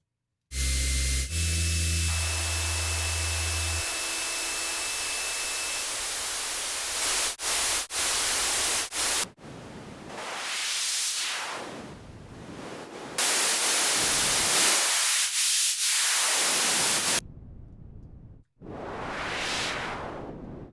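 Loud broadband synthesizer noise swept through a filter in Reaktor, rising and falling in repeated whooshing arcs, after a brief low tone at the start.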